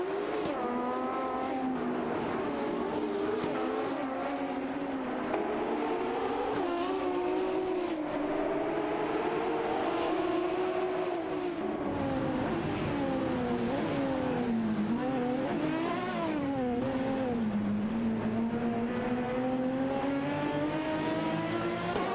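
Porsche race cars, a 917-20 and a 970-71, roar in a video game race, continuous high-revving engine tones rising and falling as gears shift, loud and steady throughout with no talk.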